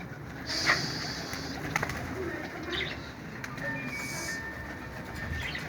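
Pigeons coo and stir nearby with soft wing flaps, set against a steady outdoor background hum, with a few sharper chirps and knocks scattered through.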